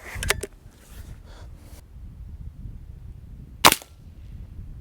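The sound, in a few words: Diana AR8 N-TEC .22 air rifle shots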